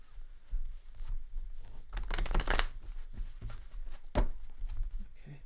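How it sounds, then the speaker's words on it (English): A deck of tarot cards is shuffled by hand, a continuous close riffle of papery flicks with a louder burst midway and a sharp snap near the end. "I'm going to shuffle these cards"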